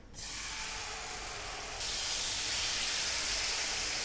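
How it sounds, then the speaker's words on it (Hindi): Raw chicken pieces sizzling loudly as they are laid into hot oil in a pan on a high flame, a steady broadband hiss that rises and intensifies partway through. "अब हम चिकन इसमें रखेंगे।"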